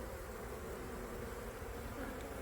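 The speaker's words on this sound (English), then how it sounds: "So I'm just cutting that comb out and then just shaking the bees into my hive instead of vacuuming." Honeybees hum in a dense, steady buzz during removal of a hive from a carport ceiling, a close, continuous drone with no break.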